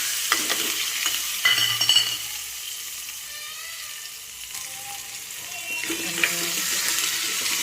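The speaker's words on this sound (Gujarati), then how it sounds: "વઘાર આવી ગયો છે એટલે નાખી દીધા આપણે ટમેટા અને મરચાં બી." Tomatoes and chillies drop into a hot oil tempering in a home kitchen, sizzling and spattering loudly at first, then settling into a softer fry with stirring and a scrape or two, close up.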